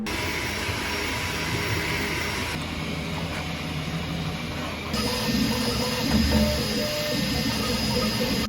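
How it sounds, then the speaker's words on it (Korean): Kingroon KLP1 chamber-style high-speed 3D printer running a print, its sheet-metal body giving off a loud, steady resonant hum and whir that shifts in pitch and grows slightly louder partway through. "둘째로 출력 시 공명음이 큽니다."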